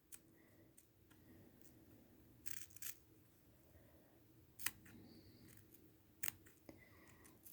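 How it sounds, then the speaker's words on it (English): Scissors snipping netting away from a miniature Valentine candy box for a dollhouse, a few quiet, sharp clicks scattered irregularly over faint room hiss, close and without speech. "You've got to kind of get the netting part cut away"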